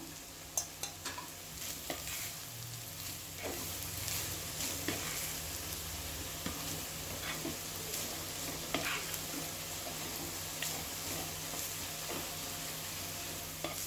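Carrot rice is stirred in ghee in a pan, a soft steady sizzle under repeated scraping and clinking of the spoon against the pan, close but fairly quiet, with no talking.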